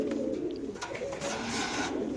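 Pigeons coo in low, throaty rolls close by, a steady layered murmur from the birds kept in a loft, with a male pigeon among them and no clear talk.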